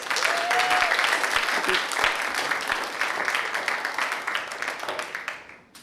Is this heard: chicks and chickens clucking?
no